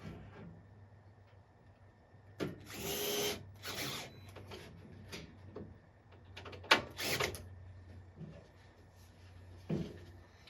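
Screws being driven into an arcade cabinet, a series of short power-tool whirs in separate bursts with quiet pauses between them, close and fairly loud.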